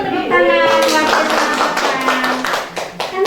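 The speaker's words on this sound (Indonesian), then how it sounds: "Terima kasih Bu Nur, tepuk tangan." Brief burst of hand clapping from a small audience in a classroom-style session, a few seconds of scattered claps mixed with voices and some tonal chatter.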